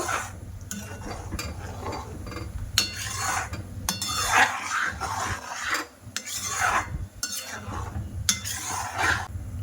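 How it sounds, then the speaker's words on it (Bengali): Thick mango pulp stirred and scraped in a kadai over a gas flame for aamsatta, repeated rasping and rubbing strokes with occasional utensil clinks, close and steady. "কড়াইতে এবার গ্যাসটা অন করে দেব দিয়ে ভালো করে জাল করে নেব"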